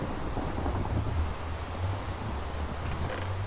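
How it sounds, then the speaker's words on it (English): A low, continuous thunder rumble rolls through a rainy storm in the Minecraft Lord of the Rings mod, steady and moderately loud with no talk over it. "Oh, whoa! There's thunder."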